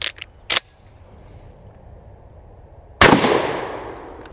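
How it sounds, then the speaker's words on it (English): A single loud, close 12 gauge slug shot from a Beretta A300 shotgun fired into stacked boxes, a sharp blast with a ringing decay, preceded by a few brief clicks and knocks. "Moving up to a 12 gauge slug."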